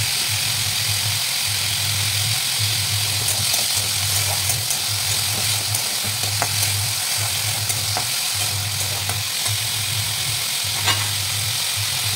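Potatoes frying in refined oil in a pan, a continuous close sizzle with a pulsing low hum and occasional small crackles, with no talking.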